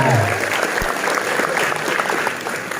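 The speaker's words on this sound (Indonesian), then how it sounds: "Tepuk tangan dulu dong buat Grace-nya." Audience clapping for Grace at a school extracurricular inauguration talk show, a dense steady round of applause from a crowd, fairly loud throughout.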